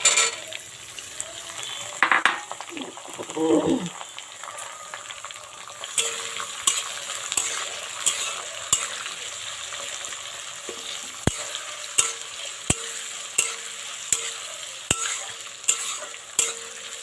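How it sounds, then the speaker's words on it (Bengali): Small and large onions, garlic, ginger and green chilli fry in a pan for a South Indian sea mussel dish, a steady soft sizzle punctuated by regular metallic utensil taps and scrapes as they are stirred. "এর মধ্যে এই যে পেঁয়াজ, রসুন, আদা, কাঁচা লঙ্কা, ছোট পেঁয়াজ আর বড় পেঁয়াজ এইগুলো আমি দিয়ে দেবো"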